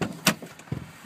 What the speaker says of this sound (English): Can you open your door?